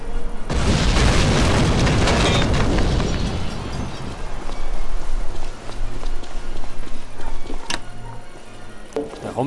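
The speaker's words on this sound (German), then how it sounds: "Die Granaten um mich." Grenade explosions in Hidden and Dangerous 2, with a loud boom followed by a long rumbling, debris-like wash of noise and a later sharp crack, close and heavy, with no talking.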